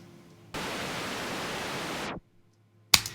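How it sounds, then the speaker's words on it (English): A steady hiss of white noise switches on abruptly, holds evenly for about a second and a half, then cuts off, followed by a brief click. "That white noise is so in your face."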